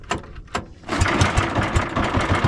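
A boat engine starts on a fishing trip: two sharp cranking bursts, then the motor catches and settles into a loud, even chugging idle.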